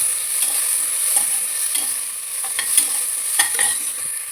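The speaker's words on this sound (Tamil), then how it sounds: "இது வெங்காயமும் பச்சை மிளகாவும் நல்லா வதங்கணும்" Onions and green chillies sautéing in a pan for vegetable biryani, a steady close sizzle with scraping stirring strokes recurring throughout, no voices.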